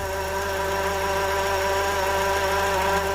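Engine noise traced to a car's alternator, picked up close through a metal bar: a steady idling hum with a strong whining tone and an even, fast mechanical pulse, continuous and fairly loud.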